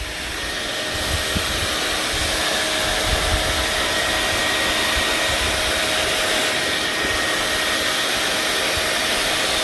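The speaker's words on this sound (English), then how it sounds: "I'm gonna turn on the vacuum." A vacuum cleaner runs steadily with a loud, constant whirring roar that holds at the same level throughout.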